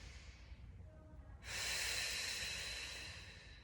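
One deep, audible breath during a guided stretching and stabilizing exercise, a soft airy inhale that swells midway and slowly fades, heard close with no talking.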